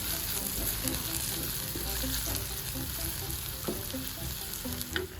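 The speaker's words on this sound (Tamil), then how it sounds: "இஞ்சி பூண்டு பேஸ்ட்டோட பச்சை வாசனை போகும் வரைக்கும் நல்லா வதக்கிட்டே இருக்கணும்" Ginger garlic paste sautés in a pan for a chicken curry, a continuous close sizzle with faint stirring scrapes and a couple of sharp utensil taps, no voices.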